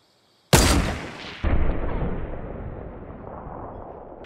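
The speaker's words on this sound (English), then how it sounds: "I could try to get the bolt action shot." A single loud bolt action rifle shot in Fortnite cracks out and rolls into a long fading echo, with a second sharp report or impact following a second later, then a slowly decaying tail.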